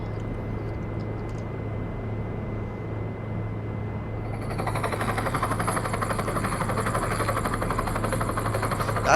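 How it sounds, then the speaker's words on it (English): A police helicopter in a video game, with steady rotor and engine drone that grows louder and brighter about halfway through, a continuous loud wash with no talking. "I hear a helicopter."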